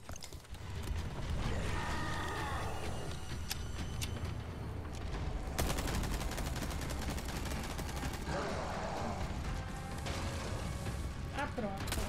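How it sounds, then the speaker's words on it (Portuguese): Rapid machine gun fire rattles in bursts amid mechanical clatter and game action in Resident Evil 4 Remake's Separate Ways DLC, fairly continuous and dense throughout. "Metralhadora."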